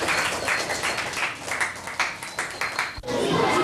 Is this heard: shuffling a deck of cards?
no